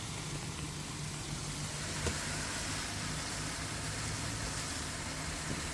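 A ventilation fan runs inside a van above a gas stove, giving a steady, even whooshing hum at moderate level with no talking.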